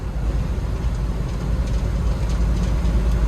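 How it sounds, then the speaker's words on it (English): Steady low roar of road and wind noise inside a 1978 Jeep Wagoneer cruising in second gear around 45 mph, a broad continuous rumble with a faint hiss, no talking. "you can hear a lot of wind noise in this thing"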